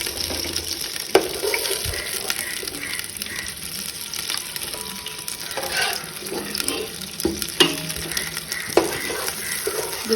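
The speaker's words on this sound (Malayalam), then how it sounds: "ചിക്കനൊക്കെ പൊരിഞ്ഞിട്ടോ, നല്ലോണം പൊരിയേണ്ട ആവശ്യമൊന്നുമില്ല" Chicken pieces fry in oil in a pan for chicken biriyani, giving a steady close sizzle broken by scraping stirs and clinks of a spoon against the pan.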